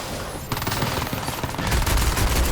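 Rapid automatic gunfire in the Crysis 2 video game, a loud continuous burst of close shots that swells heavier toward the end.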